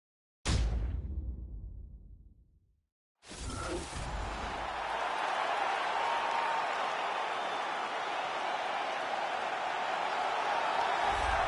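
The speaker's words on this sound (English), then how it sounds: "the crowd pops as this guy makes the walk to the octagon" An arena crowd at a UFC bantamweight event roars and applauds as a fighter walks out to the octagon. A short burst and a pause lead into a loud, sustained wall of cheering that holds steady to the end.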